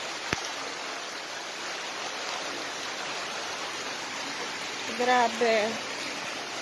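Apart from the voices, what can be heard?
flash flood water flowing past a house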